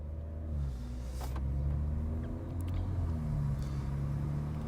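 A BMW 140i drives along a road, its engine giving a steady low rumble with a slight rise in pitch as it pulls, heard from nearby with no one speaking.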